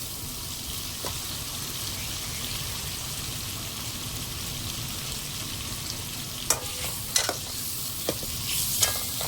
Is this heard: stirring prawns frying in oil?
yes